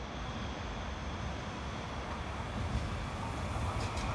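A train rolls into a station platform with a steady, loud rumble of wheels and a broadband roar that holds throughout, with faint high squeals near the end.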